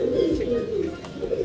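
A tall pouter (porter) pigeon with a balloon-like inflated crop coos in low, continuous, rolling murmurs, close and steady throughout.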